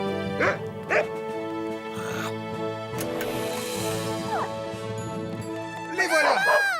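Cartoon dogs give a few short barks and yips near the start and again at the end, set against a steady animated-show music bed.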